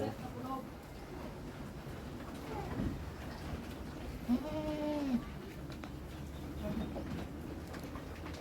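A goat being fed peanut leaves bleats once, a short wavering cry, while a person talks over a steady low background rumble.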